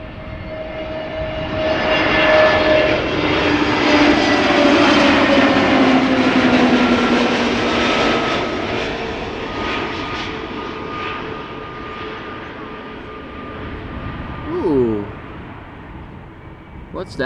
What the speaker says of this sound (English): EasyJet A320neo arriving from Gatwick.